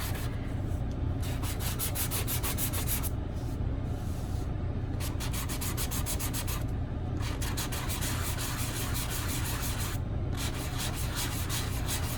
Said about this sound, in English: I will grab my sanding block and we can sand these clouds together